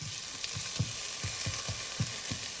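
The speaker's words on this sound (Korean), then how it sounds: "마늘이랑 이것저것 기타 등등을 다 볶아줍니다" Garlic and mixed ingredients stir-fry for fried rice made with leftover jokbal pork. A close, even sizzle runs under a quick, regular beat of spatula scrapes, about three per second.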